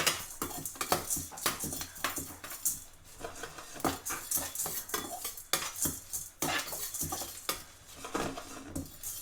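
Green gram and cumin seeds dry-roasting in a pan, stirred with a metal spoon that scrapes and clinks repeatedly in an irregular rhythm, close and fairly quiet, with no talking.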